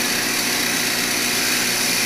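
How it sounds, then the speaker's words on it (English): A power drill bores a dowel hole in a wooden table part, producing a loud, steady, high-pitched whine up close that holds constant throughout. "And then I just go ahead and slowly drill the hole"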